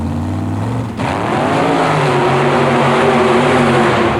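Super modified mud racing cars at an indoor mud drag at the Pontiac Silverdome, a loud engine roar that dips briefly, then surges into a sustained, rising high-revving howl, no talking.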